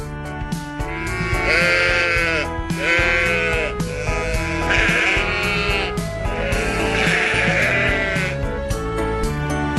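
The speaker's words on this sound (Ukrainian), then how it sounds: "Вівця." Several wavering domestic sheep bleats sound one after another over continuous background music, fairly loud and close.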